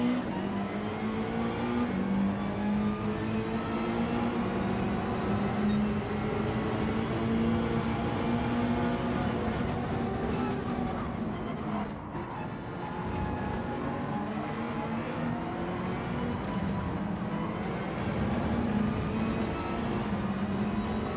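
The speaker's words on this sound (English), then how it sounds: "I'm hearing all of the cars really close behind me." Racing car engines in an F1 video game drone loudly and continuously, several whining motors layered close together, their pitch sweeping up and down through gear changes over a long stretch.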